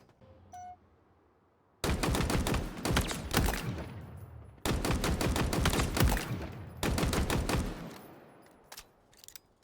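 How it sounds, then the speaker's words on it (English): Halo Infinite UNSC weapons fire in three loud, close bursts of rapid, punchy shots, each lasting about a second or two, separated by brief pauses, with a faint electronic chirp before the first burst. "Every UNSC weapon just sounds like it's super meaty, and they just have a punch to them."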